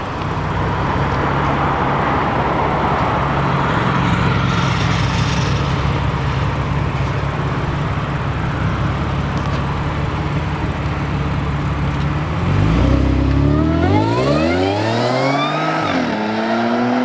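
A dark blue bagged B8.5 car with gold wheels idles and rumbles steadily nearby, then accelerates hard with a rising engine note as it pulls away past the listener.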